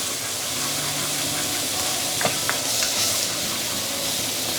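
Pork strips and chili are stir-fried in a hot wok, a steady close sizzling hiss with a few sharp scrapes and clacks of the spatula, no voices.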